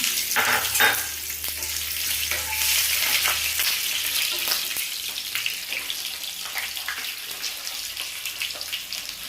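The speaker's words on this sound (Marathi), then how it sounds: "2 चमचे तेलामध्ये जिरं टाकणार, ठेचून घेतलेला लसूण" Cumin seeds and crushed garlic sizzling in two spoons of hot oil, a steady, fairly loud crackling hiss with a few stirring scrapes near the start.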